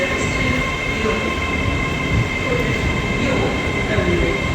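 An LNER train at a platform in Doncaster station, a loud steady rumble of rail cars with metallic wheel noise that holds level throughout, carrying on without pause.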